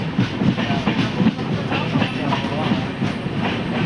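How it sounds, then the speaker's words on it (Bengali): The Kanchenjunga train runs slowly on the rails in a hilly area, heard from on board as a steady loud rumble with rhythmic clickety-clack wheel beats and some voices in the background. "এই ট্রেনটা খুব স্লো চলে"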